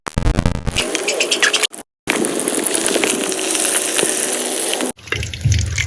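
Quail pieces for kaadai 65 dropped into well-heated oil, a loud dense frying roar and crackle with a brief cut-out and a noisy burst at the start and end.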